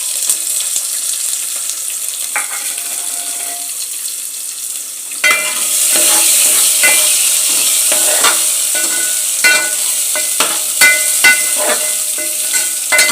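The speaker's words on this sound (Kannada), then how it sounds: "ಇದನ್ನು ಒಗ್ಗರಣೆಗೆ ಹಾಕ್ತಾಯಿದ್ದೀನಿ." Cumin, onion and smashed garlic sizzle in hot tempering oil for a Mangalore-style mosappu: a soft hiss at first, then a loud, steady sizzle with intermittent clinks of stirring.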